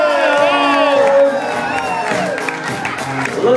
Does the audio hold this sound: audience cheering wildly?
yes